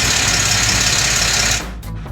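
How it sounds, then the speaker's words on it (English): A rapid, steady mechanical clatter buzzes from a Jeep's engine bay, an unusual new noise, then cuts off abruptly, leaving a quieter hum. "speculate about the new noise coming from the engine"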